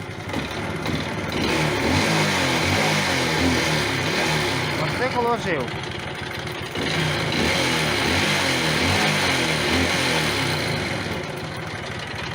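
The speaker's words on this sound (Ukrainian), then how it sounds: "І мотоцикл заводить." A moped engine that loses revs and stalls starts and runs with a steady, buzzy putter, briefly revving, close by, while someone speaks over it.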